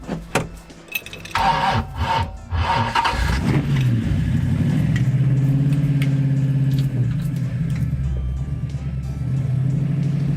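A Dodge Challenger with a 440 V8 cranks and catches after a few stumbles, then settles into a deep, loud, lumpy rumble as the car creeps slowly down a narrow lane, with faint talk at the start.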